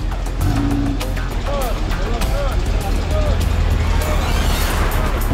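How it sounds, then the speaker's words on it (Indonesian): A car rolling slowly across a wooden village bridge, a steady low engine rumble under irregular knocks and creaks, with people talking and shouting nearby. "Satu mobil udah berhasil lewat, ini mau mobil selanjutnya, mudah-mudahan jembatannya masih kuat."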